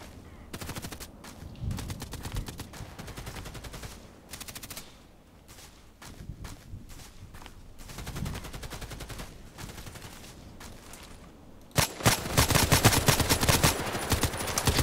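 Gunfire from the online shooter Contract Wars, with scattered shots through a busy game mix that breaks into a loud, dense burst of rapid fire near the end.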